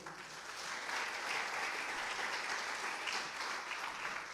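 A church congregation applauds steadily throughout, a dense, even patter of many hands clapping at moderate distance, with no voices standing out.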